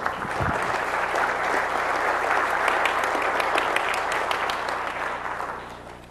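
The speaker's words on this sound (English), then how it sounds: "let's give Phil a great big round of applause" A conference audience at a Black Hat security talk in Las Vegas breaks into a sustained round of applause, a thick continuous roar of clapping that swells and then slowly fades over several seconds.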